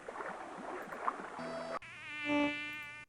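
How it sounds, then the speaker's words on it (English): Mosquitoes whine and buzz in a video game set in a wilderness, a thin insect drone over ambient background with a few tonal game sounds layered in. "These mosquitoes."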